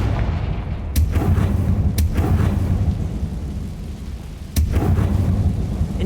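Confringo blasting spell cast in Hogwarts Legacy, a string of sharp booming blasts, one around each second and another near the end, over a steady low rumble, loud and close.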